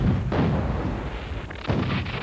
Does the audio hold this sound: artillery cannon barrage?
yes